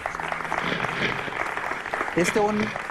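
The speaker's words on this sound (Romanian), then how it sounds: "Dați-i un aplaud." A concert audience applauds after the drummer of a band is introduced, with a loose wash of clapping under a man's speech and a brief organ-like tone near the end.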